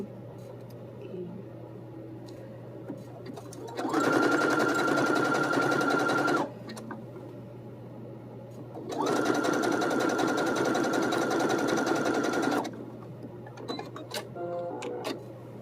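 A sewing machine runs zigzag stitches on fabric in two sustained bursts of rapid mechanical whirring, each several seconds long, separated by a pause where only a low hum and faint clicks remain.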